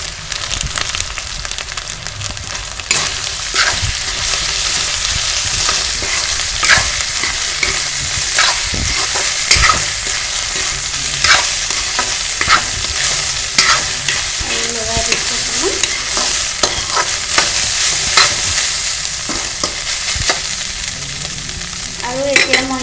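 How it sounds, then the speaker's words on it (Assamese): Soybeans with tomato fry in a pan under a constant loud sizzle, with a spatula scraping and stirring in a steady, repeated rhythm throughout. "এতিয়া মই ইয়াত সয়াবিনখিনি দি দিম।"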